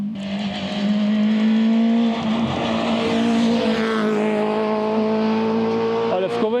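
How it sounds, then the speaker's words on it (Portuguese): A rally car at a stage of the Vale de Cambra rally roars past close by, its engine note holding loud and steady before shifting as it goes by, while a person talks quietly beneath. "Um carro a passar."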